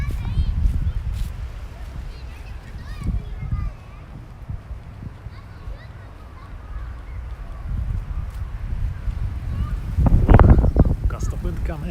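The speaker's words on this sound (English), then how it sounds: "gust of wind coming." Wind gusting outdoors in a Tokyo park on a sunny day, a low rumbling rush that swells and buffets the microphone, strongest near the end, with people talking faintly throughout.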